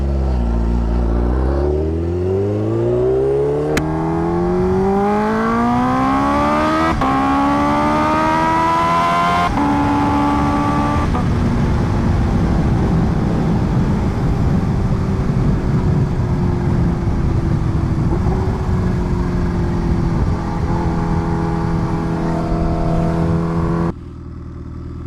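A Kawasaki Ninja H2R motorcycle engine revs hard and loud, pitch climbing steeply through several gear shifts before settling into a sustained high roar and easing off, close and continuous with no talk.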